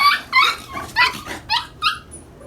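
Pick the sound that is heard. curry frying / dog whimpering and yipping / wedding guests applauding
dog whimpering and yipping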